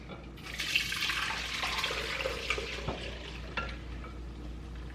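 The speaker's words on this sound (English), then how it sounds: "We are going to strain it through that same mesh strainer." Hot pink agua de Jamaica poured through a mesh strainer, a continuous close splashing, trickling stream with a few soft knocks, steady and moderately loud without speech.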